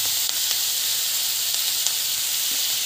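Onions and spices sautéing in a pan give off a steady, bright, even sizzle with no pauses, with a few faint ticks over the constant hiss.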